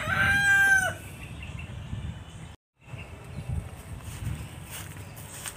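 A fighting rooster crows once, loud and close, during scratch training, followed by quiet scratching and shuffling sounds.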